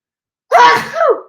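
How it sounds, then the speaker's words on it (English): A single loud sneeze bursts out close to the mic, a sharp explosive onset trailing into a breathy tail. "I'm gonna sneeze."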